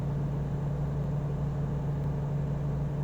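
A Volvo VNL truck engine in American Truck Simulator hums at a steady low idle-like drone, fairly quiet and unbroken, with no talking.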